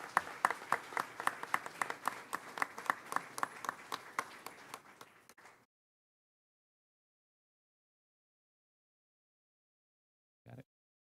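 A round of applause at a school district board meeting for a middle school group, brisk distinct claps for about five seconds that thin out and stop, followed by silence and one brief thump near the end.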